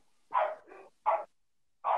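Dogs barking: three sharp, close barks spaced apart in a short burst, loud and alone with no talk over them.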